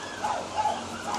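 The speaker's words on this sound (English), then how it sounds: "These dogs around here are so crazy." Dogs barking outside, a few short barks and yips heard faintly at a distance in an indoor setting, with no talking.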